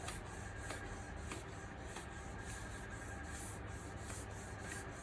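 Steady abrasive rubbing with faint repeated strokes as lacquer is flattened by sanding on the black paintwork of a Mk2 Volkswagen Golf GTI 16v, close up and without talk.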